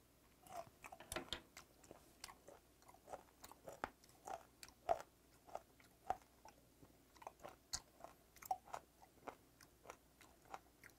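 Close crunchy chewing of raw, unfermented skate nose: a steady series of sharp, moist bites and crunches at an irregular rhythm, with no talking.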